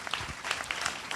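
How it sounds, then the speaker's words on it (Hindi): Church congregation clapping hands together during a Sunday prayer service, a brief, steady burst of many hands applauding at moderate volume with no voices over it. "एक बार ताली बजाओ यीशु मसीह के लिए।"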